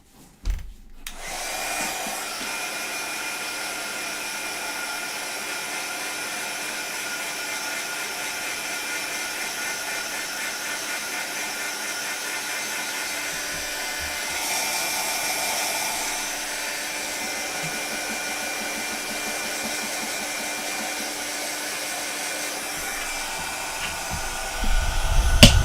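A hair dryer blowing steadily on a wedding card, a loud continuous whoosh that holds for over twenty seconds with a slight surge midway, then switches off.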